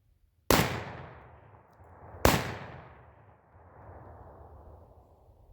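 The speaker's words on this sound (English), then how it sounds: "All right, shoot some more." Two loud blasts from a Panzer EG200 shotgun firing buckshot, spaced about two seconds apart, each with a sharp crack and a long echoing decay outdoors.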